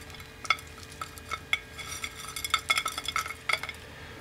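Salted mojarra fish bait is stirred as it dries, giving light scraping and sharp clinking taps that come irregularly, with a couple of clusters of quick clicks, close and fairly quiet with no voices.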